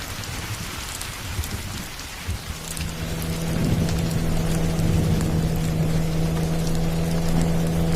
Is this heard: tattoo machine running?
no